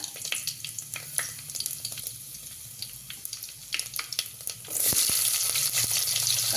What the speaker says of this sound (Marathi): तेल गरम झालं की जिरी मोहरी टाकून घेऊया अर्धा चमचा मोहरी अर्धा चमचा जिरी थोडासा कढीपत्ता